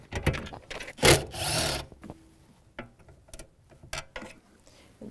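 A ratchet with a 10 mm socket works on the mounting bolts of a metal console bracket inside a 2013-2018 Toyota RAV4. Close, scattered clicks and a short burst of ratcheting and rubbing come through without any speech.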